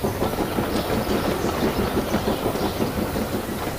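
A steam engine pulls a long line of wagons away from a platform, with a steady rhythmic rumble and clatter of wheels on rails, close and fairly loud.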